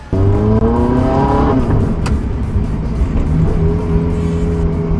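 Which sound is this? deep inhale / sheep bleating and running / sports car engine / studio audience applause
sports car engine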